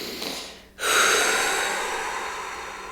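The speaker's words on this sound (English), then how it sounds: "and just take a breath" A deep breath drawn in before a self-injection during IVF treatment, a short hiss, a brief pause, then a longer, louder inhalation that trails off slowly, close and alone.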